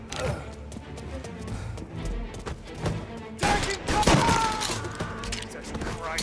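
Gunfire erupts in a Mafia: Definitive Edition shootout, with dense bursts of shots and thuds over a layered game soundscape, growing louder and busier in the second half while voices shout in the mix.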